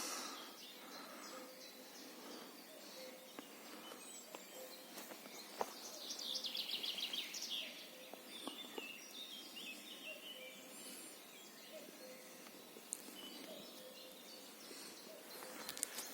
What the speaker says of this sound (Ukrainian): Пташки співають травень місяць, весна.